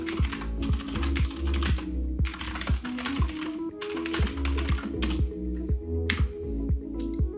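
Fingers typing a command on a computer keyboard, close and clear, with irregular bursts of keystrokes separated by short pauses and no voices.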